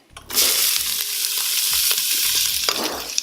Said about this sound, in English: you hear it sizzling, it's cooked up, it's warm, the oil is spread through there